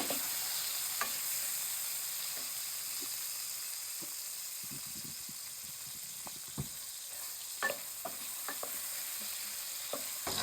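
Green chillies fry in hot oil in a pan for a Pakistani chicken dish. A steady, close sizzle hisses throughout, broken by scattered clicks and scrapes of stirring, with no talking.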